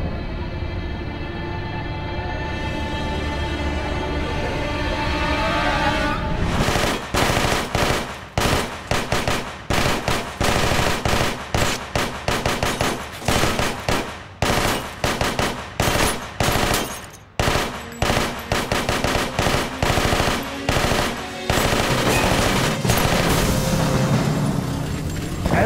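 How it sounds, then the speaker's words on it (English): A large Tommy gun prop fires long rapid bursts during a staged film shootout, loud and close, with sharp repeated cracks and brief gaps between volleys. "That's a big machine gun. And we just shot it about 18 times"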